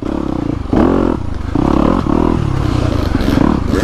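A dirt bike fitted with big oversized tires and a flywheel weight rides close by with a loud, uneven engine note that rises and falls, along with clattering and scraping over rough ground.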